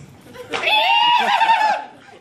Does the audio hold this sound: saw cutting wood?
no